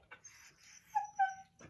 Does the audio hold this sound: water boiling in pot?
no